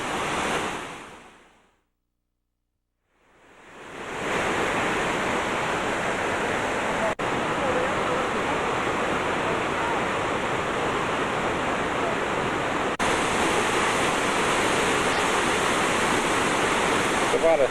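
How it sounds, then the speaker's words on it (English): Victoria Falls roars in a constant broadband rush of water over a drop of about 300 feet, loud and steady apart from a brief dropout near the start, with no talk over it. "This is one small part of the falls."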